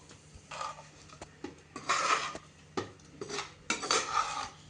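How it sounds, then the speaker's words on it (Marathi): Cut bottle gourd vadis dropped into a pan and tossed in tempering, heard as several separate bursts of scraping and clattering of a utensil against the pan, with quiet gaps between them. "आणि आता आपण ह्या कट करून घेतलेल्या वड्या यामध्ये घालूया."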